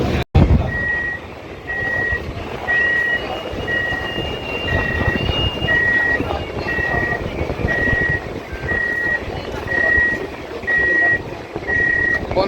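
Warning beeps from an AC local train on the Sealdah–Ranaghat line, sounding as its doors close at Khardah station: a steady run of evenly spaced, clear electronic beeps over a constant rumble of the train and station.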